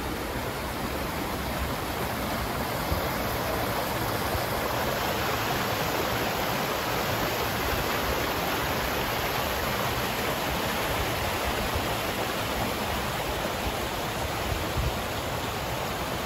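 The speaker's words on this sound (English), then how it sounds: "That wind is cold." A cold wind blows steadily beside the Wenscott Reservoir in Rhode Island, a constant, fairly loud broadband rush with no gusts or pauses, heard alone without voices.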